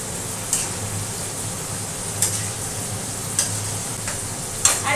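Fish curry with water just added sizzling steadily in a pan, a loud close hiss with a low bubbling undertone and a few sharp ticks as it is stirred.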